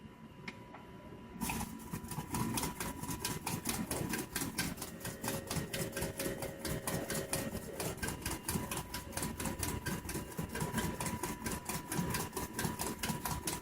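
A small Stirling engine starts up after its flywheel is spun by hand and runs with a fast, steady mechanical clicking that stays even and close for the rest of the stretch.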